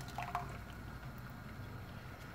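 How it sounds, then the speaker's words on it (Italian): Tomato sauce goes into a pan of guanciale for amatriciana, with a soft wet plop and splatter near the start before a faint sizzling, liquid simmer carries on quietly. "andiamo ad aggiungere la salsa di pomodoro"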